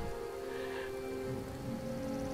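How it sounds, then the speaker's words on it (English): Rain falls in the video game Skyrim, a soft, steady wash of rainfall heard faintly throughout beneath sustained tonal hum from the game. "as you see, the rain's coming down"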